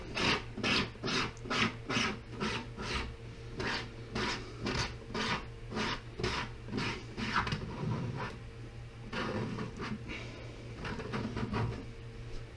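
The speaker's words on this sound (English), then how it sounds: "Scrape it all down to the middle." Bubble hash is scraped toward the middle in a quick series of rhythmic rasping strokes, close and moderately loud, with no talking.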